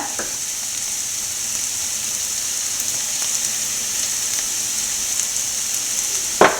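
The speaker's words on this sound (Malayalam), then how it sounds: "നമ്മുടെ മുളക് പൊടി നല്ലപോലെ വഴന്നിട്ടുണ്ട് കരിയാതെ വഴറ്റണം" Chili powder, black pepper and spices sizzle and fry steadily in a pan for an egg puff filling, a continuous close hiss with a faint stir clatter near the end and no talk.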